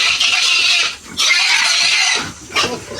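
A pig squeals loudly and continuously while being handled, with shrill bursts broken by brief pauses.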